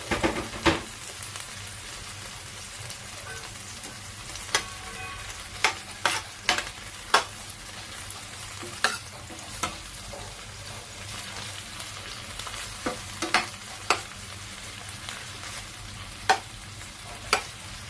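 Tomato added to a pan of frying mung bean stew base with shrimp and pechay, a steady moderate sizzle with scattered sharp crackles and stirring clicks throughout, no voices.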